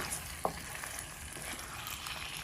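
Onion with cinnamon, cardamom and cloves fries in butter and oil in a wok. The sizzle is soft and steady, with one brief clink near the start and no voices.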